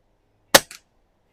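A Pinty Timber rifle fires a single sharp, close shot at an outdoor range on a very windy day, with a short second report or echo right after the first, then silence.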